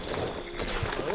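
Horse hooves clip-clop in Red Dead Redemption 2, a short run of steady hoofbeats under game dialogue and ambient sound.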